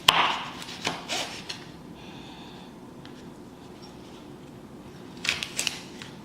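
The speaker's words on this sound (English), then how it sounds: "The carrot, I'm going to take it and julienne it and then also cut those sections down the middle in half." A knife cuts a carrot into julienne strips on a cutting board, heard as a few sharp close chops at the start, a quieter stretch, then another quick cluster of cuts, with no talk.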